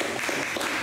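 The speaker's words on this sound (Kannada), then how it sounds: "10 ಜನ ಚಪ್ಪಾಳೆ ತಟ್ಟಿ ನೋಡೋಣ." A short, steady patter of clapping from a small group of about ten people at an award presentation. The claps are close and continuous with no voices.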